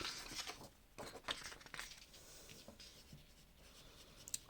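Hand-writing a chemistry equation on the mass ratio of proton and electron, close scratchy pen strokes in quick bursts with small pauses between them, quiet and alone without talk.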